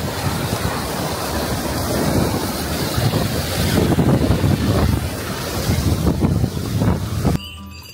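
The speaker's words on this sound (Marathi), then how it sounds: "खाली हिमालयातली वाहणारी नदी" A Himalayan river rushes below a bridge on the Kailash pilgrimage route, a steady, loud roar of flowing water mixed with wind buffeting the microphone throughout, cutting off abruptly near the end.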